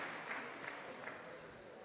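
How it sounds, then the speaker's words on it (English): A local crowd at a lead climbing semifinal competition in Bridgeport claps for a climber, a steady wash of applause heard from some distance, fairly faint and even throughout. "Local crowd giving him some much needed applause"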